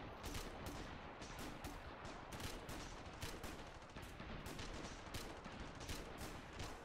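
Rapid, dense gunfire from the video game Ravenfield crackles without pause, with repeated sharp bursts layered over a steady roar of battle noise, no voices.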